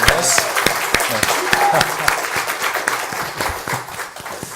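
A church congregation applauds the pastor after a sermon, with dense clapping that runs steadily throughout, mixed with some talking and crowd murmur.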